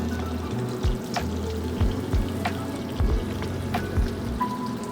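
Salmon fillet with the skin on crisping in a hot pan, a steady crackling sizzle running throughout with scattered sharp pops and spits, close and fairly loud, with no voices.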